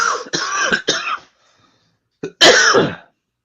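A person coughs several times in quick harsh bursts, pauses, then lets out one more loud cough up close.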